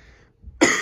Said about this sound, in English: I'm going to cough probably a little bit